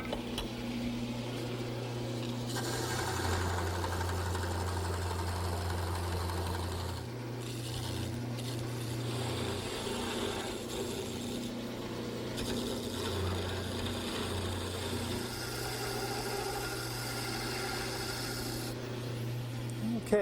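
A wood lathe turns a quilt rack part while a gouge cuts the straight section between two beads, giving a steady motor hum with a shifting scraping rasp that changes as the tool moves.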